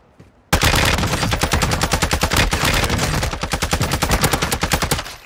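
Rapid automatic gunfire erupts suddenly and loudly in Call of Duty Warzone 2, a dense burst of rattling shots with no talk over it.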